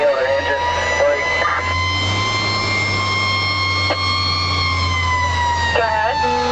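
Fire Engine 4 runs its siren while responding, a loud continuous wail with short whooping sweeps, over the heavy low rumble of the truck's engine.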